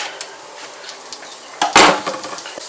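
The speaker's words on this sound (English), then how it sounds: "we can get that into our cast iron skillet and start browning that" Food dropped into a hot cast iron skillet to brown, a quiet hiss and scattered clinks, then a loud burst of sizzling about two-thirds through that fades back down, close with no talking.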